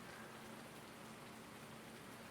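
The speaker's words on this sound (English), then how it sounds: "It also doesn't look like this rain is going to stop. It has been going all day." Steady rain falls throughout in the Farming Simulator game, a dense, even hiss of drops on surfaces that stays constant and unbroken, with no voices.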